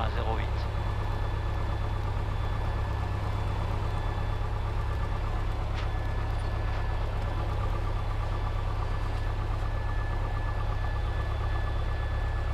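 A light aircraft engine runs steadily on the ground during a pre-flight engine check, a constant droning hum heard from the cockpit while crew talk over it.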